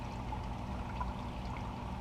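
Regular tap water is poured onto freshly planted micro dwarf tomato seeds in a pot, making a soft, continuous trickling stream under a low background hum.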